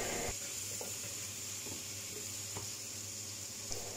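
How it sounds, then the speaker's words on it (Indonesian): Seasoning being stir-fried in a pan for a Hong Kong-style dish of big squash with tofu, giving a steady soft sizzle with faint scraping stirs, close and with no talking. "Dan lalu ditumis-tumis ya, tumis-tumis hingga tercampur merata bumbunya."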